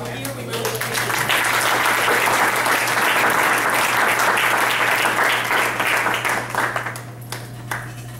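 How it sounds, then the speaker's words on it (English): Audience at a school board meeting giving a sustained round of applause that swells, holds for several seconds, then fades, with voices audible at the start and end. "we should give them a round of applause for the folks who are here"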